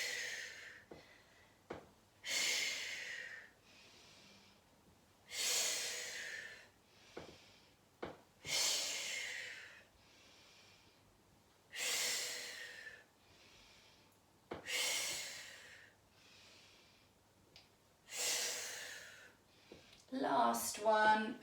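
Deep, slow breaths drawn in and pushed out during a pilates floor exercise, about eight long hissing breath cycles in a steady rhythm, close and clear with small movement noises between them.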